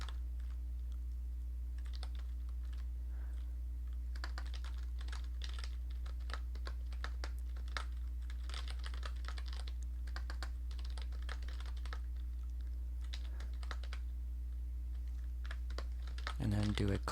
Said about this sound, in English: and we can type in our answers